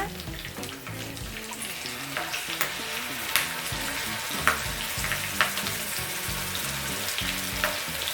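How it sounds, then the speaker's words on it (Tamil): Prawns fry in hot oil with curry leaves, a loud, steady sizzle punctuated by regular scraping clicks of a spoon stirring the pan, heard up close with no talking. "இந்த இறாலை வந்து அது கூட சேர்த்துக்கோங்க சேர்த்து ஃப்ரை பண்ண ஆரம்பிங்க"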